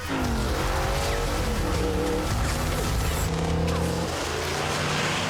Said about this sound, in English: here Dom is driving what I think is the coolest Charger ever